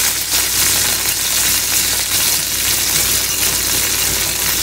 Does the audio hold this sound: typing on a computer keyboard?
no